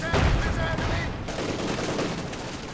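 Rapid flak cannon fire from Ostwind anti-aircraft tanks in Company of Heroes, a dense, loud fusillade of overlapping gunshots mixed with battle noise, strongest at the start and continuing steadily under faint voice.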